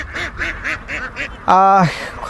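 Ducks of a large flock in Netrokona, Bangladesh, quack in a repeated, rhythmic series, then one loud, drawn-out honking quack rings out close by.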